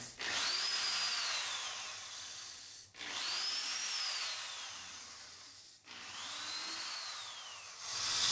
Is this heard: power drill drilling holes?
yes